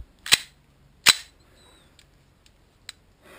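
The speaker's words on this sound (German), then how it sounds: "Geschossen wird mit der Ricard Cobb, da die einen sehr freien Lauf hat." Two sharp gas pistol shots fired at fruit with a free-running barrel, loud and close about a second apart, followed by faint small clicks and ticks.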